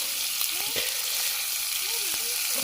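Chicken pieces fry on clay roof tiles over an open village fire, giving a dense, continuous sizzle and crackle, close and steady, with faint bird calls in the background and no talking.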